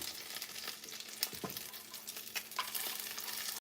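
A tuna melt taco made with a folded tortilla sizzles in a pan on the stove, giving a steady close frying hiss with a few soft scrapes and stirring sounds, with no voices.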